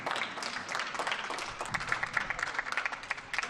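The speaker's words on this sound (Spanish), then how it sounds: "Aplausos repentinos en los balcones de las casas" Applause from people on the balconies of houses along a street, a distant, diffuse patter of many hands clapping that stays fairly faint and even for a few seconds.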